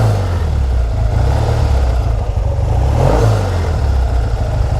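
A 1959 Triumph Bonneville T120 motorcycle engine, from the first production year, runs loud and close at steady raised revs with a throbbing low rumble, heard alone without voices.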